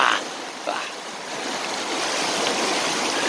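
A clear river flows over stones, giving a steady, close, broadband rushing and babbling that continues throughout.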